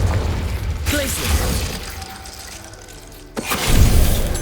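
Glacius freezing spell cast in the video game Hogwarts Legacy, heard as a sharp icy crackle and shatter near the start, a quieter stretch, then a second loud glassy burst that rings out toward the end.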